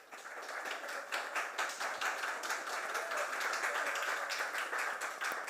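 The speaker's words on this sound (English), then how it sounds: "That deserves a round of applause." An audience at the Jamaica Diaspora Conference 2022 gives a round of applause, a dense, steady wash of many hands clapping that holds strong for several seconds.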